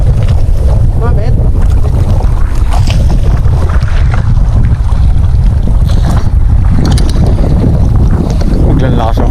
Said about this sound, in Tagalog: Biglang lakas ang hangin dito guys.